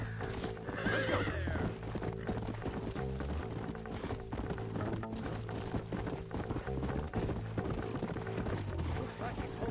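Rhythmic hoofbeats clop steadily while a horse whinnies near the start in the game Red Dead Redemption, with voices and other game sounds layered underneath.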